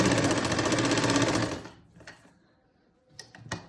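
A sewing machine runs a steady, loud stitching burst on fabric for about a second and a half while a Punjabi kameez neckline is sewn, then stops, followed by a few faint clicks and handling sounds.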